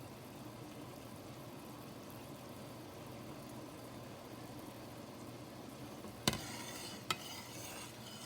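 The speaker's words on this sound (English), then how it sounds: "I'm still being able to stir it down a little bit" Sugar-free muscadine jelly stirred in a pot over high heat, a steady scraping and bubbling texture throughout, broken by two sharp clinks near the end.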